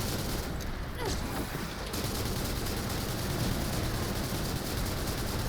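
Gunfire from an infinite rocket build in The First Descendant: a continuous, loud barrage of rapid shots and blasts blurring into one dense roar, without pause throughout.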